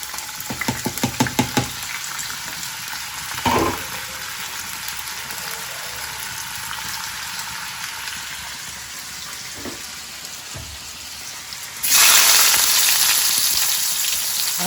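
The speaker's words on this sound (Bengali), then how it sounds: "এই যে আলু পেঁয়াজ তেল একসাথে দিয়ে বসাই দিলাম।" Potatoes and onions fry in oil with a crackling sizzle and a few quick clattering stirs at first, then a quieter simmer and a sudden loud burst of sizzling near the end.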